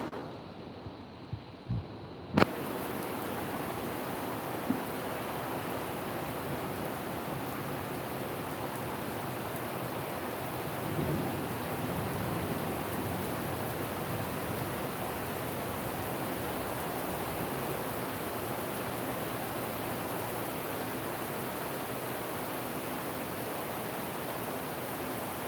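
Steady rain pours over a vegetable garden of lettuce, potatoes and beans, a continuous even hiss that follows a few sharp clicks at the start.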